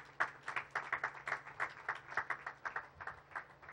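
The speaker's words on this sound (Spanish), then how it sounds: "Dele un aplauso al Señor." A church congregation claps for the Lord in a steady, even rhythm, a series of quiet, somewhat distant claps repeating about three times a second.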